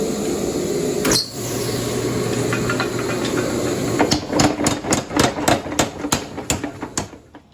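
A mechanical power hammer forges hot metal with square and round faces, starting with a hiss and one sharp strike, then a rapid run of about a dozen loud, evenly spaced blows.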